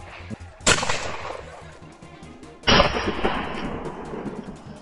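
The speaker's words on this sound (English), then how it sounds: "Across the hill, my teammates fired as well." Two loud rifle shots ring out during a wild boar hunt on hilly ground. Each sharp crack is followed by a long rolling echo, about two seconds apart.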